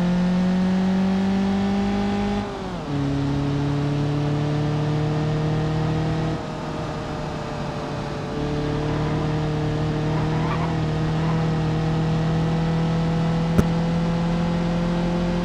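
Coral Ossipari with a 1.6 liter single point injection engine driven in BeamNG.drive, a steady droning engine note that drops and climbs through gear changes, close and continuous for about fifteen seconds with a brief click near the end.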